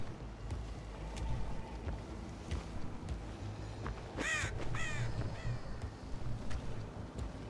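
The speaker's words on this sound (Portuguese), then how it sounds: "Corvos aqui também." Crows caw a few times in a Dead by Daylight game match, set over a steady wind-like ambient drone with faint scattered clicks, and no talk.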